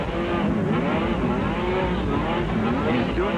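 Sport truck race engine heard from onboard during a Grand National Sport Truck round at Anaheim, launching over a jump: a loud, continuous high-revving roar with shifting pitch, close and steady throughout.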